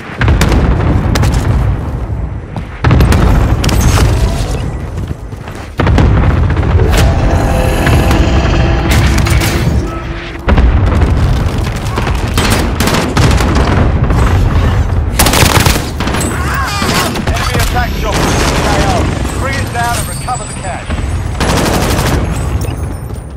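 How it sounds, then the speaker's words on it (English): Cluster strike explosions in a zombie warzone video game, dense rolling booms and rapid gunfire bursts, loud and near, sustained with only brief gaps. "Good copy. Cluster strike away."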